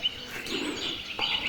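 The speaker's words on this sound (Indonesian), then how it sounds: "Kicau-kicau burung." Birdsong along a steep mountain trail at about 2,200 m, a few faint high chirps set against soft outdoor air, with no voices.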